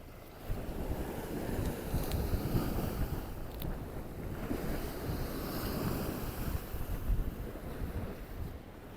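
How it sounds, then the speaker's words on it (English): Sea waves smash onto the shore at Blackpool during a night of sea fishing, a continuous rumbling roar of surf mixed with gusty wind buffeting the microphone. "Them waves are smashing up here now."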